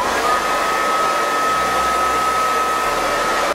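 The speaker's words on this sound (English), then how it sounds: "take a blow dryer on medium heat, and you want to like dry your baby hairs" A handheld blow dryer on medium heat drying hair runs steadily and close, a constant loud whooshing whine with a faint motor tone throughout the few seconds, with no voices.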